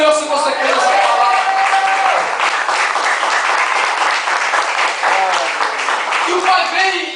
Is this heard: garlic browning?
no